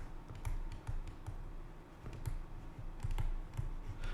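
Keys on a computer keyboard are typed in a quiet, fairly regular patter of soft clicks, close by and alone, with brief pauses between short bursts.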